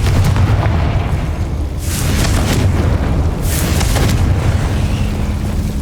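Spell blasts from the Confringo curse in Hogwarts Legacy: a dense, continuous rumbling roar of fiery explosions with two louder bursting swells, loud and close throughout with no talk.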